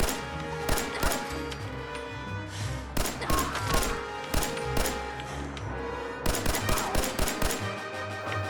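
A modded 10mm handgun firing in Fallout 4, sharp single shots in irregular bursts across several seconds over a steady game music bed, each crack loud and close with brief ringing decay.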